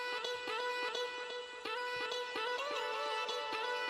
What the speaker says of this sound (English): And so I chopped up the vocals so they sound like this.